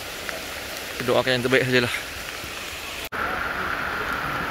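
Heavy rain pours steadily during severe flooding in Seremban, Negeri Sembilan, a loud, constant hiss throughout, with someone speaking briefly over it.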